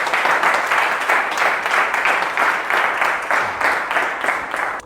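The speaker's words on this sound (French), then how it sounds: "Acclame pour le Seigneur." A church congregation bursts into sustained applause with rhythmic clapping and cheering, loud and steady throughout, filling the worship space.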